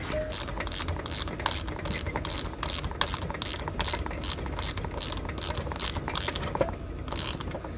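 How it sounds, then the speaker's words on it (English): A ratchet tightens the bead lock on a motorcycle tire fitted with a Tubliss system, with rapid, even clicking that runs steadily and close by, with no talk. "then you go ahead and tighten up your bead lock"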